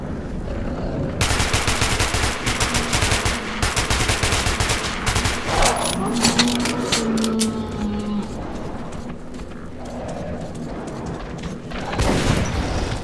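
Bursts of automatic gunfire in the shooter game Metro 2033 Redux, with rapid rattling volleys, a pause and then renewed firing, loud and close amid game ambience.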